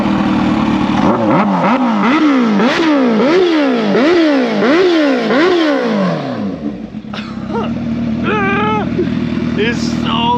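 A 2022 Kawasaki Ninja H2 with a Vandemon exhaust and flashed ECU revs hard several times in rapid rising-and-falling blips, very loud and close, then drops back to a rough idle with a few more short throttle stabs.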